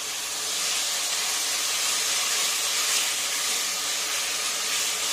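Tomatoes and ginger garlic paste sautéing in a pan for egg biryani give a steady, loud, close sizzling hiss that holds without a break and has no talk over it.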